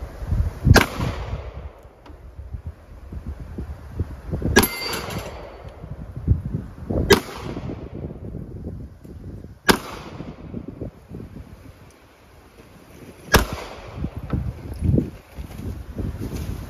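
Glock pistol shots fired during a sight test at roughly 13 yards ring out as five sharp, loud cracks spaced a few seconds apart, with outdoor rustle and handling noise between them.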